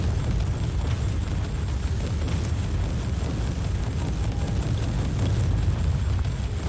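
Enemies bursting apart from area-of-effect damage in Warhammer 40,000: Inquisitor, a continuous roaring, crackling rumble of explosions sustained at steady loudness throughout.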